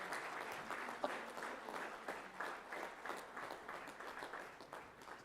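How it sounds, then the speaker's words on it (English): An audience at a management day ceremony applauds the winners of the day, a continuous wash of many hands clapping heard from a distance and fairly faint, holding steady for several seconds. "a huge round of applause for all our winners of the day"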